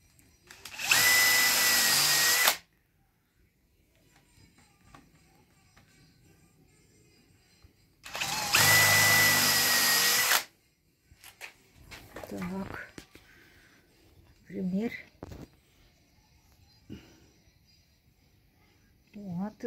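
Two loud, steady whining bursts of a small drill boring a hole for a bead, each lasting about two seconds and separated by quiet, followed by people talking.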